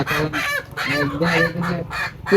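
Chickens squawk and cluck close by while their beaks are being trimmed, loud and busy, with a voice talking among them.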